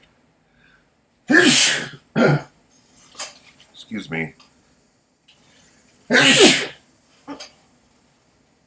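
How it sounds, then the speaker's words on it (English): A loud, sharp sneeze bursts out, followed by a brief murmured word, then a second forceful sneeze, with quiet pauses between. "I think I'm gonna sneeze."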